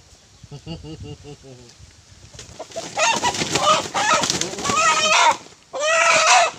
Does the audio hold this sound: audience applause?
no